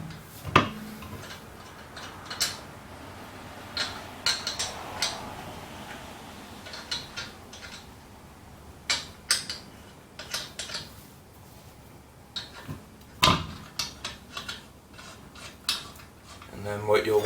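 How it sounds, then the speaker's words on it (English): Lug nuts spun by hand onto the wheel studs while mounting a spare tire give scattered light metallic clicks and small rattles, close by and irregular, with no talking. "put the lug nuts on by hand first"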